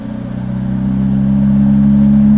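A car driving up a canyon road: a close, steady engine drone with a strong low hum that swells slightly in loudness as it goes, heard alone without talking.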